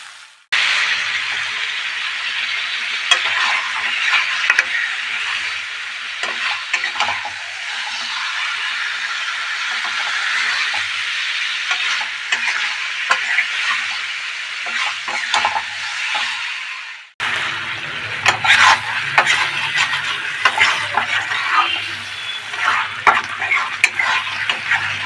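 Chicken pieces sizzle loudly in hot oil in a pan over a steady frying hiss, while a utensil scrapes and clinks against the metal in repeated stirring strokes. A brief break comes midway before the sizzling resumes.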